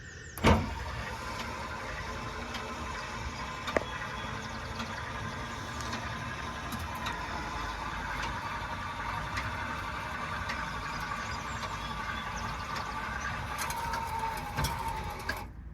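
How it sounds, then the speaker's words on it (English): Small electric tongue jack motor on a 2022 Aspen Trail 25BH travel trailer whirs steadily at a low level as it winds down, with a faint mechanical buzz, a couple of brief clicks, and no voices. "you'll hear the motor kind of wind down"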